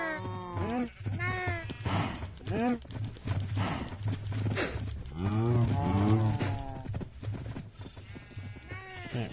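Minecraft cows moo and sheep bleat in repeated close calls, several overlapping lowing sounds rising and falling, with a person talking between and over them.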